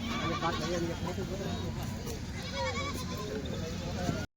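Young Rajasthani goat kids bleat continuously and loudly at close range, many calls overlapping, with people's voices running underneath throughout.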